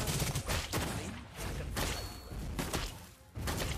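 Clint firing rapid shots in Mobile Legends, with dense, loud bursts of gunfire and thumping impacts repeating in quick rhythm.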